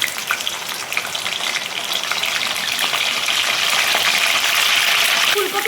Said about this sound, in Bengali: ফুলকপিটা হালকা করে ভাজা হতে থাকুক